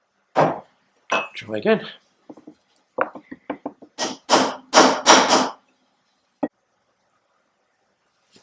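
A hammer strikes a chisel driven against a stuck bearing race on a Firebird, giving sharp metallic clinks in short bursts and a few separate strikes. A voice speaks briefly between the blows.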